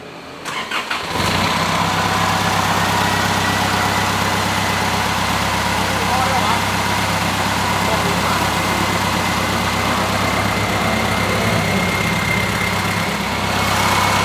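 A car engine cranks and catches after a jump start, then settles into a steady, loud idle that runs for over ten seconds, with voices talking faintly underneath.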